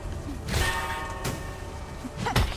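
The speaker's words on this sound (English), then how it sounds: "Hitting the bell every time I'm trying to hit this bug is amusing" Metallic bell struck in Silksong, three separate clanging hits with bright ringing tails, spaced about a second apart, over a constant game background hum.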